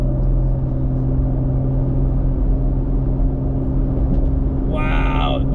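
A Jeep Gladiator truck cruising at higher speed, with a steady engine and road rumble droning throughout, a faint whir on top and a brief brighter burst near the end.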